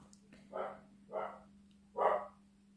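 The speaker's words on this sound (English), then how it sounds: "Please ignore if you can hear dogs barking in the background." Dogs barking at a distance in a home: three separate barks spaced about a second apart, faint and muffled behind a steady low hum, with no talking.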